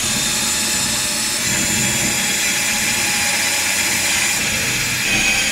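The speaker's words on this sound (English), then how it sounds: "time to drill" Power drill boring into a wall to fix a Samsung TV mounting plate, a steady loud whirring grind running the full length without pause and with no talking.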